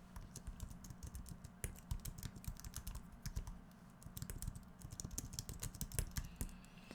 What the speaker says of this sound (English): they're going to type it in